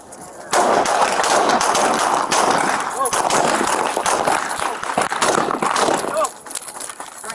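Gunfire recorded on a police body-worn camera: rapid, loud bursts of shots crackle almost nonstop, with a voice briefly talking over the chaotic noise before it eases near the end.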